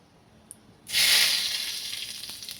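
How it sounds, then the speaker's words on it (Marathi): Hot tempering poured over tomato chutney bursts into a loud, close sizzle after a brief quiet moment, then hisses steadily and slowly fades. "आता फोडणी घातल्यानं आपल्याला असा आवाज असा चरकण आला पाहिजे"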